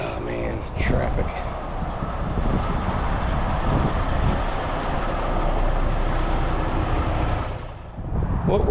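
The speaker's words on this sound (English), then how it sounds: "Oh man, traffic." Heavy road traffic rumbles past a truck hauling an excavator, a loud, close, sustained roar of a passing truck lasting several seconds before fading slightly at the end.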